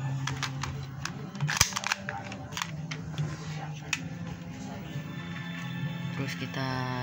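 Sharp mechanical clicks and a metallic snap from a Glock 26 spring airsoft pistol being racked, heard close up over faint background noise.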